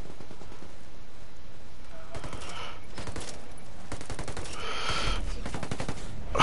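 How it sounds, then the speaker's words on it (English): Bursts of automatic gunfire crackle through a Ghost Recon Wildlands Ghost War match, rapid clustered shots coming in waves over several seconds against steady background game ambience. "Taking fire."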